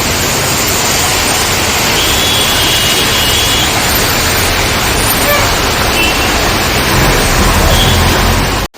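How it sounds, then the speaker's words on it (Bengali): Heavy rain pours down in a village, a dense, steady roar of close, loud rainfall that runs without a break and cuts off abruptly at the end. "দেখা যাক কত জোরে বৃষ্টি আসতে পারে আজকে"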